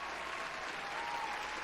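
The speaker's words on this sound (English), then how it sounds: "A little late with the crowd cheering, but better late than never." A crowd cheers and applauds in a steady, dense wash of clapping, a stock sound effect dropped in as a brief burst of approval.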